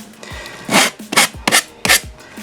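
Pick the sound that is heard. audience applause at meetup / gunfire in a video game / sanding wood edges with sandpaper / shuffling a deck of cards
sanding wood edges with sandpaper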